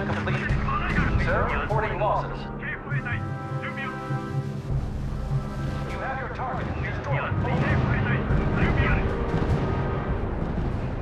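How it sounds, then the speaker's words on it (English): Artillery barrage in the WWII strategy video game R.U.S.E., a 2v2 match, heard as continuous booming and rumbling impacts with scattered blasts, layered with game effects and a talking voice throughout. "have all my artillery just slam his center"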